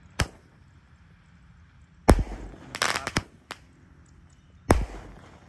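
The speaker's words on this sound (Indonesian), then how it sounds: "terima kasih sudah mengikuti menyalakan mercon di dalam tanah" Firecrackers lit while buried in the ground go off as sharp, dry bangs over quiet outdoor background: one single crack, then a quick cluster of pops, and a final loud report.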